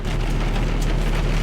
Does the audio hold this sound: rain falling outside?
yes